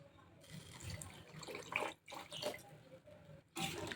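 Water pours into a simmering hilsa and brinjal curry in a few short splashy bursts separated by brief pauses, fairly quiet and close.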